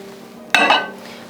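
A food container is set down inside a microwave, making a sharp clack followed by a second knock and a brief rattle over a steady background hum.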